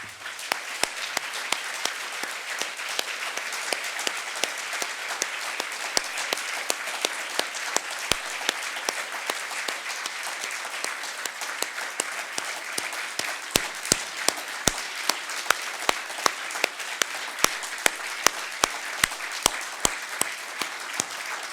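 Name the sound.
audience applause honoring lost journalists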